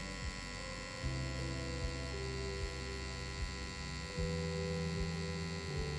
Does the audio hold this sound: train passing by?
no